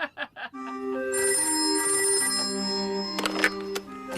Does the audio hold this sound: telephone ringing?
yes